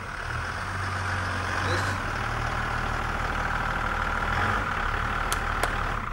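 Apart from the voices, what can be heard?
car engine idling with characteristic clatter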